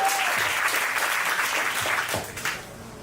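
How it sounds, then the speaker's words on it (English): An audience at a comedy show applauds steadily, with dense clapping that keeps going for the whole stretch and no talking over it. "Y'all start clapping right now for Christy Hayden"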